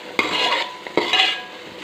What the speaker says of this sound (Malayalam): 2 മിനിറ്റ് നല്ലതായിട്ടൊന്ന് ഇളക്കി കൊടുക്കണം.